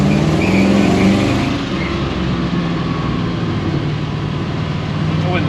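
Twin-turbo 1956 Chevrolet two-door driving past, a broad steady engine and road rumble with a brief higher whine early on, fairly loud and continuous with no clear talking.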